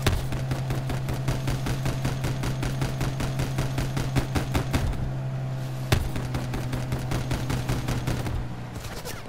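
A helicopter in the video game Call of Duty: Black Ops 4 thumps with rapid, steady rotor beats and a low droning hum, loud and close throughout, with a brief sharp impact partway through.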